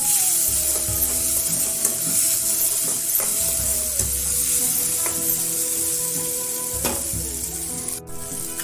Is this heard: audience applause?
no